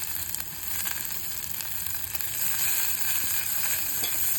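Sweet corn frying in oil together with mushrooms for a white sauce pasta, a steady crackling sizzle with a few spoon taps and scrapes, growing slightly fuller toward the end, no speech.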